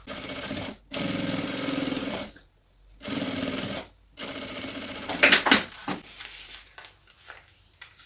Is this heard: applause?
no